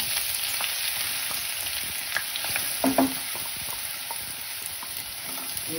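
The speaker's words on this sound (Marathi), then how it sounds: "त्याच्यामध्ये 3 चमचे तेल घातलंय. आता हा कांदा आपण त्यात घालून घेऊया." Chopped onions fry in hot oil in a kadhai for dhaba-style chole bhature, giving a loud, steady close-up sizzle with a few brief stirring clinks and no talking.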